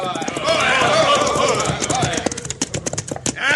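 Radio drama sound effect of horses galloping in, rapid hoof clip-clops building and then scattering into irregular beats as they halt, with a neigh near the end.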